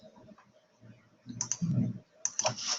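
A computer mouse clicks a Next button with a few crisp, close clicks and light clatter near the end over a faint background murmur.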